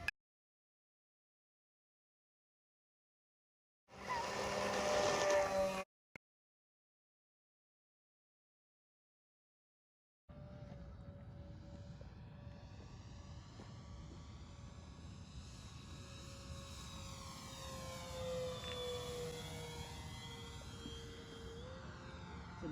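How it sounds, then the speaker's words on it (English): An Avios King Twin 1700 twin-engine RC airplane flies overhead, a short loud burst of engine whine followed by silence, then a sustained buzzing drone with rising and falling pitch as it passes at a distance. "It's a nice flying airplane."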